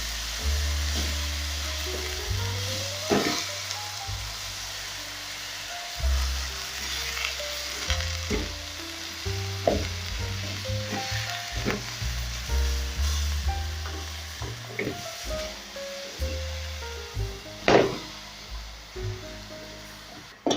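Frozen spinach greens hit a pan of translucent onions, crackling and sizzling steadily with scattered sharper pops and occasional stirring scrapes, close and moderately loud without any talk.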